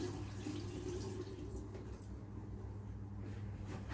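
Antifreeze is poured from a gallon jug into a standpipe P-trap in a hot water heater closet while winterizing a water system, a faint, continuous liquid gurgle and splash with a low steady hum underneath.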